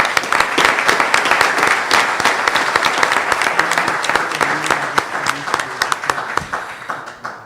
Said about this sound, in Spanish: Pido un aplauso, por favor